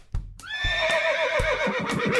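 A horse whinnies once, a loud, close, drawn-out neigh that wavers and falls in pitch, over a light rhythmic background beat.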